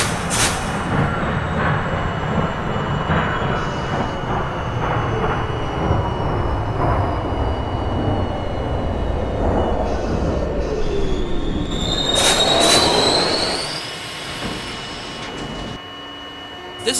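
A New York subway H train, an R40M in the OpenBVE simulator, rumbles steadily along the track with rhythmic wheel clatter and rising wheel squeals, a sharp high screech swelling late before the noise drops away.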